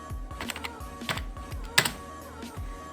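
Fingers typing on a computer keyboard at a moderate, slightly uneven pace, individual key clicks close and distinct with a sharper tap partway through, no voices.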